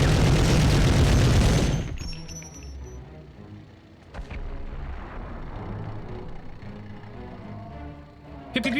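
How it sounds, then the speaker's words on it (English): Heavy gunfire and booms from the Medal of Honor video game open loud and dense for about two seconds, then drop to a quieter bed of rumble and scattered distant shots. "Very loud gun again."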